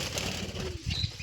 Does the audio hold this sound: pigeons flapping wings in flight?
yes